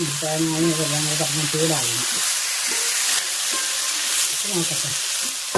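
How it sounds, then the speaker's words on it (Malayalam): Pumpkin peel curry with lentils is stirred in a hot pan, giving a steady sizzling, hissing fry with soft scraping, while someone talks over the first part. "പിന്നെ നന്നായിട്ട് ഇളക്കി യോജിപ്പിക്കും അല്ലേ"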